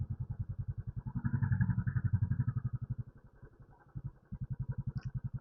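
A restored Classic 500 motorcycle thumps along on a night ride with a close, steady, rhythmic engine beat. The engine swells as it revs up, softens and fades briefly, then settles back into its even pulse.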